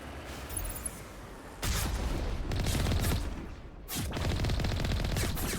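Pirate snipers fire in Mass Effect: bursts of loud, sharp gunfire with rolling echo come in clustered volleys, one after a short lull and another a couple of seconds later.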